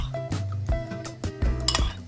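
Metal clinks and soft thuds repeat at a steady rhythm as meatless patties are set into a frying pan, with faint sizzling between the knocks.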